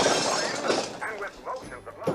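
Lots of glass breaking off screen in A Christmas Story, a dense shattering crash that stays loud from the start and breaks into scattered tinkling fragments, overlapping talk and other noise.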